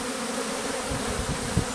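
A honey bee swarm buzzes as a dense, continuous drone of many wings, close and steady, with a few louder passes near the end.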